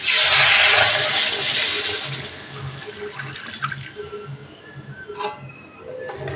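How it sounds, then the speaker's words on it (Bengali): Water poured into a pan of fried spice paste for a pakal fish curry, a loud rushing sizzle at first that fades into softer bubbling and occasional light clinks. "আমি এবার একটু পরিমাণ মতো জল দিয়ে দিচ্ছি।"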